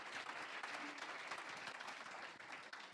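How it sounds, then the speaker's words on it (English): Faint, steady applause from an audience at a women's award event, even clapping heard at a distance. "Great applause."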